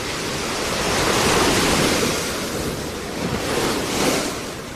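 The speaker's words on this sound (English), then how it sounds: "Unrelenting the waves. Just keep coming," Ocean waves break steadily on a beach near a campground, a continuous loud wash of surf with gentle swells in intensity, mixed with wind buffeting the microphone.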